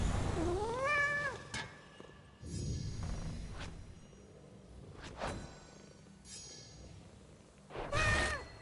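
A cat in the game Hades II gives a rising meow, followed by soft whooshes and game effects, then a second meow near the end, all without talk.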